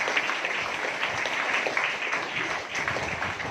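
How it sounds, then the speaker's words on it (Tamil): Applause from a church congregation at a feast mass in Avadi, Chennai, a soft, even patter of many hands heard at moderate distance for a few seconds without talk over it. "அட்லீஸ்ட் நீங்க கைத்தட்டி அதை வரவேற்கலாம்."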